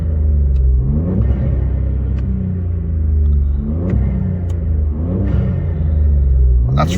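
A VW Up GTI with a Piper stainless exhaust and a Forge intake kit revs repeatedly, each short rev rising and falling over a loud low rumble, with brief intake flutter heard from inside the car.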